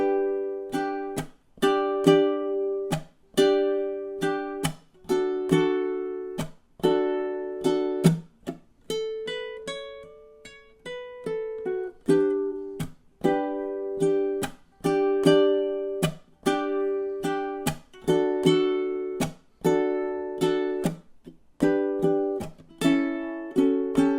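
A ukulele plays a fingerpicked and strummed chord melody, measures 15 to 20, in a steady stream of bright plucked chords. A brief sustained single-note run sits in the middle, and no voice is heard.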